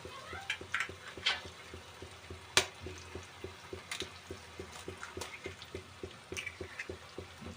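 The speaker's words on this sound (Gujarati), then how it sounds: "તો આપણે આવી રીતે 6 ઈંડા આપણે અંદરથી એડ કર્યા છે" Eggs are cracked one at a time into a pan of sizzling masala for Mumbai-style anda bhurji, six eggs in all. Soft frying hiss runs throughout, broken by a string of small sharp taps and clinks, fairly faint.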